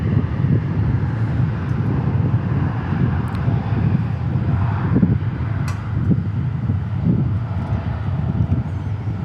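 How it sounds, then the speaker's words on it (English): A Boeing 787 Dreamliner takes off for Honolulu from DFW Airport, a steady, moderately loud jet roar with low rumbling pulses and some wind buffeting, mostly without speech. "There goes the Dreamliner off to Honolulu."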